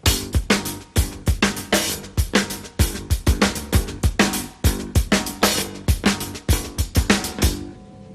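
A drum kit groove with a whacked snare, bass drum kicks and hi-hat, played close and loud in a steady repeating rhythm of sharp hits, alone without talk.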